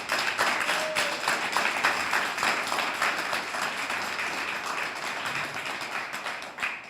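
Steady applause and crowd noise fill the hall at an offline grand final of a Warcraft 1v1 esports event, a dense, continuous wash of clapping holding at an even level throughout.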